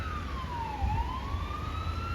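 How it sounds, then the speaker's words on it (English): A police siren wails steadily along a Toronto street in Trinity-Bellwoods, its pitch sweeping down and then back up over constant traffic rumble. It is moderately distant, and no one speaks. "And I hear a siren. It's a police car."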